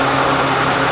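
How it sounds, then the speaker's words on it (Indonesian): A Honda car's radiator cooling fan runs in a steady, loud whir with a low engine hum beneath, close by and unbroken. "Nih, sekarang nih kipasnya sudah hidup"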